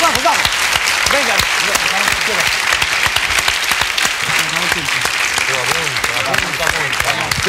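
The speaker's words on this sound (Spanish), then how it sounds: "Vamos, un aplauso" A TV game show studio audience claps loudly and continuously, with a host talking over the dense, close applause throughout.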